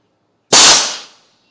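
A DPF/SCR/DOC silencer cleaner machine fires a single sharp cleaning shot, a loud burst of air that bangs and then hisses away over about a second, with no other sound around it.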